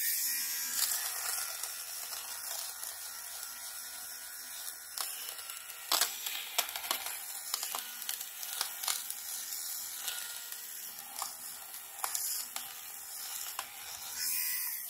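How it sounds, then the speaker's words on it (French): A Philips electric fabric shaver buzzes steadily as it shaves pills off fabric, a continuous close whir with scraping crackles and a few sharper snaps as it moves over the cloth. "on va tester le rasoir anti-bouloche en espérant régler ce problème"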